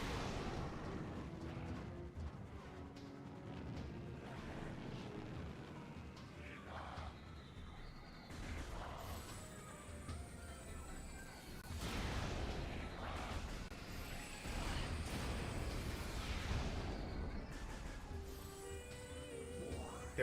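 Super missiles launching and detonating in Metroid Prime Remastered, a dense run of booming blasts and whooshing launches layered over game music, loud and continuous with no talk.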